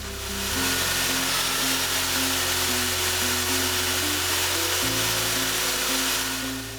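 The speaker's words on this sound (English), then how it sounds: "it will need to be trimmed with a router to remove any saw marks" Router trimming the cut edge of a Mistral solid-surface worktop, a continuous high-pitched electric whine held steady with a slight change in pitch partway, loud and close, no talking.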